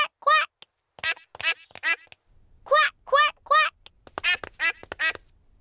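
Cartoon character voices imitate a duck's quacking, a rapid series of bright nasal quacks in short bursts of two or three, close and loud, with brief pauses between groups.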